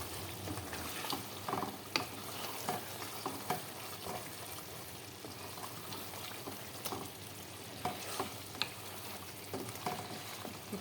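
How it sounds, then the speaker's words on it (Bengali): Chicken sautéing in its own juices in a pan for an onion chicken curry, a steady close sizzle with stirring scrapes and clinks recurring throughout, no talking. "তো আমি চিকেনটা সুন্দর করে কষাই নিতেছি, আরও কষাবো।"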